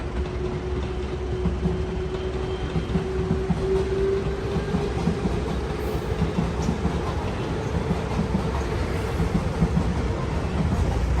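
A JR train in Osaka rumbles steadily past with a constant mechanical roar and a faint tonal whine, sustained and fairly close throughout.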